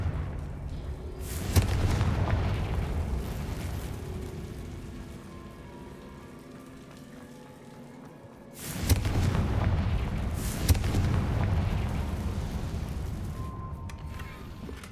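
Confringo spell explosions in the Hogwarts Legacy video game: two heavy booming bursts several seconds apart, each swelling into a long, noisy rumble like pouring rain, fairly loud with no talking.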